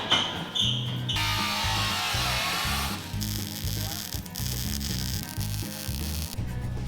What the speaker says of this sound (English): I'm gonna weld it in tight.